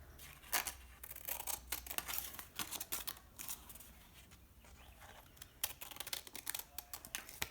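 Scissors snip through paper pieces for paper roses in a rapid, irregular series of crisp close cuts with short pauses between bursts, and no talking.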